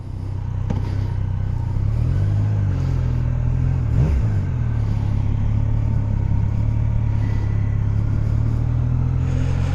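A 2019 Yamaha Niken three-wheeled motorcycle with the CP3 three-cylinder engine idles with a steady, loud low rumble after starting on a chilly day, with a brief rev swelling and falling midway.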